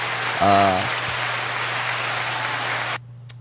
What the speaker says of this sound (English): Go ahead and give him a round of applause one more time